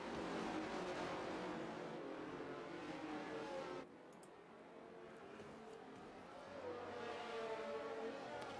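Formula 1 car engine in a racing video game, accelerating hard out of a safety car restart at Singapore, with a steady loud roar that drops back briefly midway and then swells again as the car drives away.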